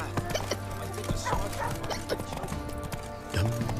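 Hooves of Roach, the horse in The Witcher 3, clip-clop at a trot in an even rhythm, fairly close, under a brief voice and some background game sound.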